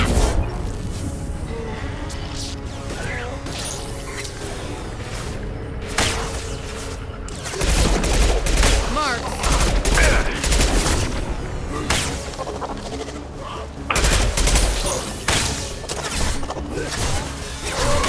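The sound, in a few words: gunfire in the video game Mass Effect 2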